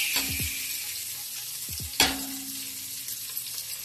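Onion and garlic sauté in hot oil for menudo, a steady sizzle underneath a few sharp clinks and scrapes of a spoon against the pan, one louder knock midway, and no voices.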